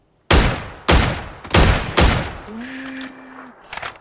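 Heavy gunshots in PUBG, four loud booming reports about half a second apart, followed by a quieter whistling tone and a faint last shot.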